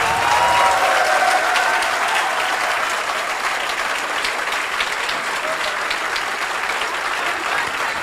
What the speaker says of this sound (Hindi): तालियों के आवाज।